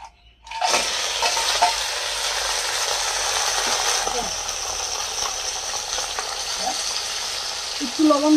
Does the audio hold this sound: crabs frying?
yes